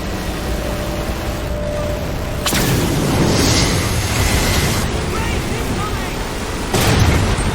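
Heavy explosions strike a Mammoth vehicle in the Halo video game, two loud broadband booms landing a few seconds apart over a constant rumbling battle din.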